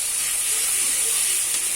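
Pork fries with ginger, garlic and onion in a pan, a steady, close hiss and sizzle that holds evenly throughout this short moment.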